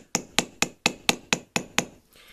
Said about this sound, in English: a ball peen hammer, the round side, and we're going to start working this. We want to mushroom this down.